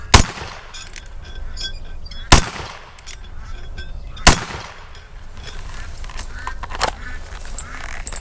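Three loud, sharp gunshots from a handheld Pietta 1873 single action revolver, spaced about two seconds apart at an outdoor plate-shooting range, each with a quick decay over steady background noise.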